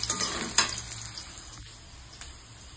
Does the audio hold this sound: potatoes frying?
yes